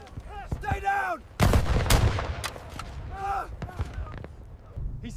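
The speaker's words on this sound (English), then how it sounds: "They're all around us! Mortars!" Mortar and artillery fire in a 1944 Normandy D-Day battle scene land as heavy booming blasts that roll out and fade, with sharper cracks mixed in under urgent shouting voices.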